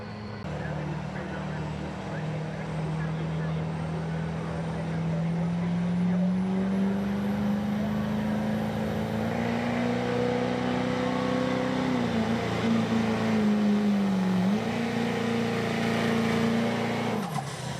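A 2003 Chevrolet diesel truck in the Hot Rod Diesel four-wheel-drive class makes a truck-pull run, its engine roaring loud and steady as the pitch climbs and dips, with a crowd announcer talking over it.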